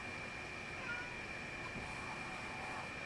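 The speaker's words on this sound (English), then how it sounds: "I don't know if you guys can hear my cat." A house cat meows insistently from another room, begging to be let in, faint and somewhat distant under a steady background hum.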